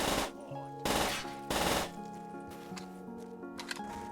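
An automatic weapon empties a full magazine in Black Ops 3 Zombies, with three loud, rapid bursts of gunfire in quick succession, followed by ringing mechanical tails and quieter game sounds.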